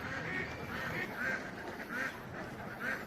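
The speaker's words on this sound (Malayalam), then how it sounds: "താറാവാ പോണ് കണ്ടോ താറാവ് ഇതാ" Ducks near water on a fishing outing give faint, repeated nasal quacks at a steady rhythm, a few seconds apart, over a soft outdoor background.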